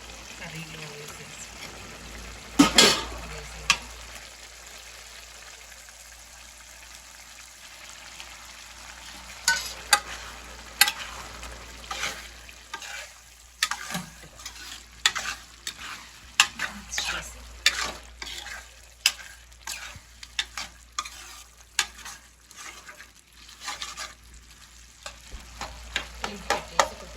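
Tomato egg curry simmering in a pan as eggs are added, a soft bubbling sizzle under repeated close clacks and scrapes of stirring, with a voice talking over parts of it.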